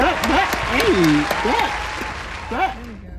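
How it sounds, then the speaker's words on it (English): Applause from a crowd fills the background while people talk over it, the clapping steady and fairly loud throughout. "can we cue like clapping for that?"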